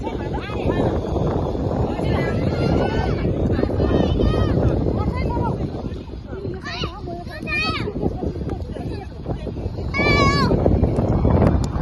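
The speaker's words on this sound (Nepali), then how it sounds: "हावा चल्यो" Wind buffets the microphone in a steady roar, with children's voices and chatter heard over it throughout.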